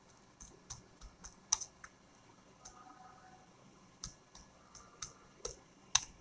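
Keys clatter on a computer keyboard while text is typed into WordPad, a quick run of sharp, separate clicks in an irregular rhythm, close and moderately quiet, with brief pauses between bursts and no talking.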